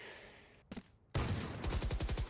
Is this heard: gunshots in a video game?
yes